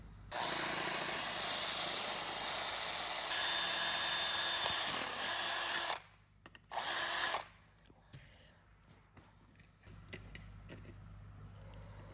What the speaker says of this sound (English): So we're gonna drill the holes now